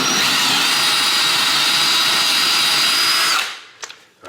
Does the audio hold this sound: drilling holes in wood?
yes